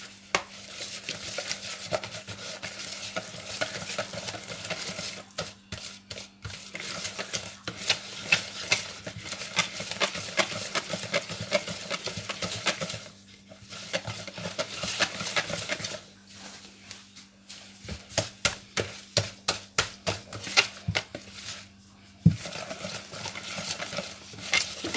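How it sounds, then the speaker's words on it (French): Pancake batter made with milk is stirred in a bowl until smooth, the utensil clicking and scraping against the sides in quick, uneven bursts with short pauses, close and fairly clear. "On va bien mélanger jusqu'à obtenir une pâte homogène."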